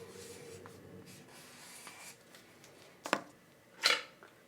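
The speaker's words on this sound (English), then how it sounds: "They can write the word see." A pen writes a short word on an index card, with soft scratchy strokes, then a couple of sharper taps and scrapes near the end. The writing is close and quiet, with no talking.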